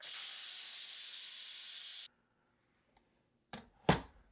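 A pressure cooker vents a full steam release for two seconds of loud, steady hiss that cuts off abruptly, followed by silence and then a couple of short clanks and a brief rush of sound nearby.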